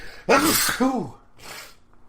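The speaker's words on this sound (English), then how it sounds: "that sneeze came out of nowhere" A single sharp, close sneeze with a quick intake of breath, followed by a softer exhale.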